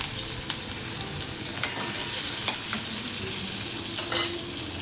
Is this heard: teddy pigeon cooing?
no